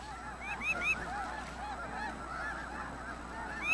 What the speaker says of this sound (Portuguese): Os gansos da neve conseguiram com dificuldade encontrar uma pequena área sem gelo para fazer seu